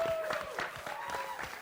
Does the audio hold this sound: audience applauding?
yes